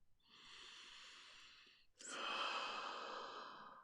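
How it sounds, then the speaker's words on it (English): A slow, deep breath taken during a guided meditation, first a long soft airy inhale and then a fuller, slightly louder exhale. Close and gentle, with no talk over it. "Taking another breath"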